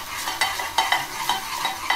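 Ingredients for dahi kadi sautéing in oil over low heat, with a utensil scraping the pan in regular strokes about every third of a second over a soft sizzle, close, and no one speaking.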